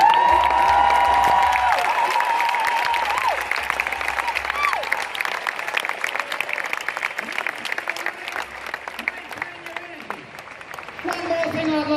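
An outdoor crowd at a Melbourne rally applauds steadily, warm sustained clapping with a few cheers, as a voice carries over the top congratulating young organisers.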